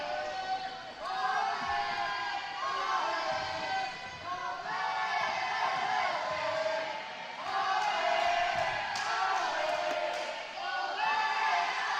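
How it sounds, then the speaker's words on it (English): A packed indoor futsal arena crowd chants rhythmically in waves for the home team, loud and continuous, with cheers rising and falling. "Crowd getting involved, chanting for their home team."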